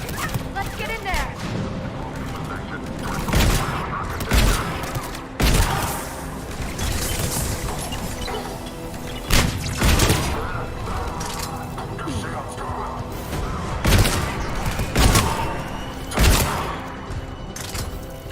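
Gunfire in a firefight at a checkpoint in the video game Mass Effect 3, repeated loud shots and bursts scattered throughout, with characters talking and shouting over the combat.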